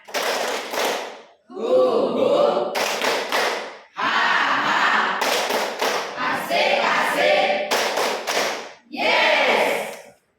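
Indonesian 'tepuk semangat' group clap during a chemistry class ice-breaker, a standing group clapping in loud rhythmic bursts with sharp unison claps and chanted voices between short pauses.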